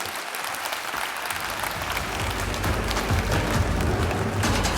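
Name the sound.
audience applause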